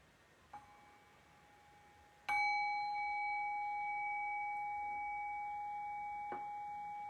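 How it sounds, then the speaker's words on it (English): A meditation bell is struck once after a faint tap, ringing out with a clear sustained tone that slowly fades over several seconds in a quiet room. "I'll just ring the bell, and we'll do this brief exercise"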